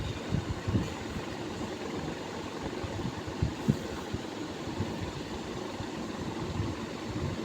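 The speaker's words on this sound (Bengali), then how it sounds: "হাওড়ায় ট্রেন ধরে ট্রেনে বসে আছি যাচ্ছি" A passenger train departing from Howrah rolls along with a continuous low rumble, soft rhythmic knocks and rattles of the carriage, and no talking.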